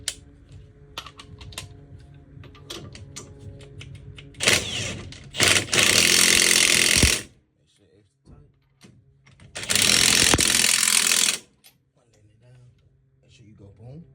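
A power drill spinning car wheel lug nuts tight while installing rims, two loud sustained whirring bursts of roughly two seconds each, close up, with scattered clicks and handling noises between them.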